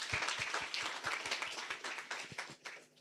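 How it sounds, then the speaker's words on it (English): An audience claps for themselves at a land rights mock trial, with a modest, fairly quiet patter of hand claps that thins out and fades over a few seconds. "I think we need to clap for ourselves for remaining put."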